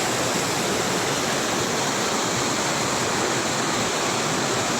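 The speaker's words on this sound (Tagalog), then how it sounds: "ito na yung falls" Hiloktugan Falls waterfall roars as a dense, constant wash of rushing water, loud and close, with no talking.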